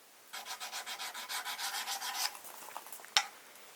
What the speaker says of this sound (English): So we need to sharpen up the spine a little bit.